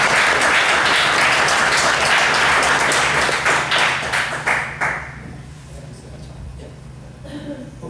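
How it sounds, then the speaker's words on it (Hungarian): An audience at a science and spirituality talk applauds the translator with loud, dense clapping that thins into a few scattered claps and dies away to quiet room tone. "szeretnék egy nagy tapsot kérni"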